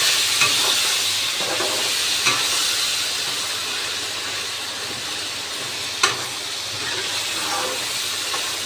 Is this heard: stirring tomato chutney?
yes